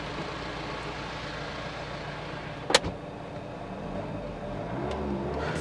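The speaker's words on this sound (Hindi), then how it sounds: "डीजल इंजन होने के बावजूद भी काफी ज्यादा नॉइस कट यहाँ पर कैबिन इंसुलेशन की वजह से" A Jeep Meridian Overland diesel engine heard as a muffled, steady hum inside the closed, insulated SUV cabin, low and even, with one sharp brief click partway through.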